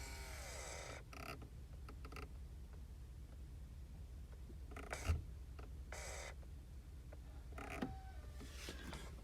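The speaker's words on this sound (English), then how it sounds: "You can hear the motor running in normal operation as it adjusts that flap inside the dash" Chevy Impala dash blend-door flap motor running inside the dashboard, giving short creaking, ratcheting bursts that come and go several times over a low steady background, close up and without speech.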